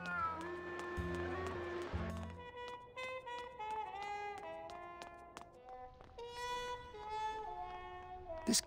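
A cat in the video game Grim Fandango Remastered meows repeatedly in drawn-out, wavering cries, one after another at close range, over a soft game background.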